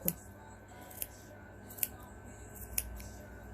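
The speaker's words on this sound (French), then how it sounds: "on ne crante pas jusqu'à notre piqûre" Scissors notch a fabric seam allowance for mittens with four crisp, separate snips about a second apart, quiet and close, with soft room noise between cuts.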